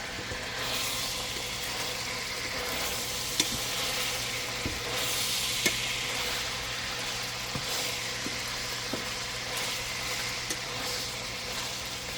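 Food for a glazed lamb grits pie sizzling as it fries in a pan, a steady, loud hiss with broad crackle, occasional small pops and faint stirring clicks, continuous with no talking.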